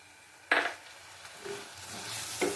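Spices with Kashmiri chili powder and a splash of water sautéing in a pan, a sharp sizzle burst as liquid hits, then a soft steady fry with faint stirring and a second brief hiss near the end.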